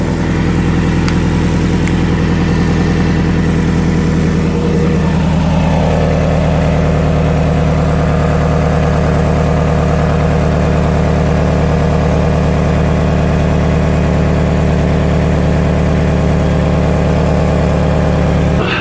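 The engine of a 1999 Toyota Camry with an exhaust leak idles steadily and loudly up close, a constant low rumble that runs throughout with no voices.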